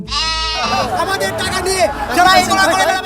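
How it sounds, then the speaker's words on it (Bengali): A goat bleats loudly with a wavering, drawn-out cry, followed by a busy crowd of voices chattering close by. "ছাগল"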